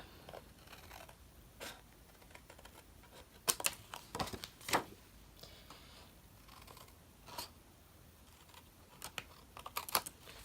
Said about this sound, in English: Let me grab a scissors and we'll just trim this